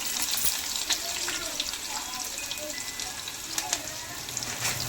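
Chopped onion frying in hot oil with mustard and cumin seeds in a pan, a steady dense sizzle with occasional stirring clicks and small pops throughout, fairly close and loud with no talking.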